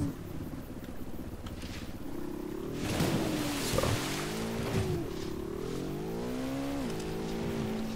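Motorcycle engine in the video game Ghost Recon Wildlands, a steady droning hum with shifting pitch as it revs up and down over several seconds, loud and continuous throughout.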